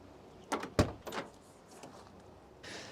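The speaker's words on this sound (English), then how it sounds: "time to get the door card off now" Prying the door card off a Mk1 Ford Fiesta door produces a few sharp plastic clicks and thumps close up, followed by a soft scraping rustle.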